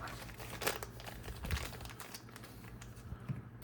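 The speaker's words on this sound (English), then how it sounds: "So let's cut all this stuff out of the bag." A plastic parts bag holding shock-absorber components for an Axial SCX10 Pro RC crawler is cut open and handled, giving close crinkling, rustling and small taps under a low background hum, with no speech.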